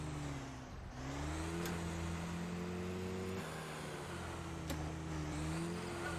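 Car engine climbing a hill in the fishing game Call of the Wild: The Angler, a steady mid-pitched drone that shifts pitch a few times as it labours upward, heard alone with no talk.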